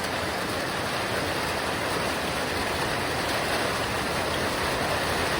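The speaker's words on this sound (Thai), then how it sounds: "แต่ฟ้าฝนก็มาพอดี" Heavy rain pours down steadily during a storm at an outdoor site where a radio communication mast is being raised, a continuous broadband hiss with no pauses and no voices.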